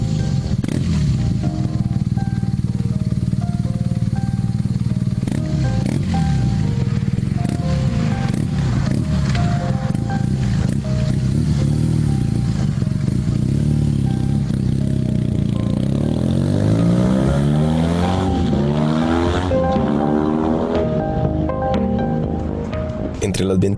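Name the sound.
boxer flat-twin engine running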